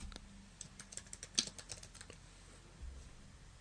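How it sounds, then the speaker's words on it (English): Keystrokes on a computer keyboard while entering a blog category in WordPress, a quick irregular burst of light clicks at close range, tapering off toward the end with faint room noise behind. "And then I will type in a category."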